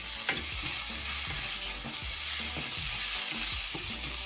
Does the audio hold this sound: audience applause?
no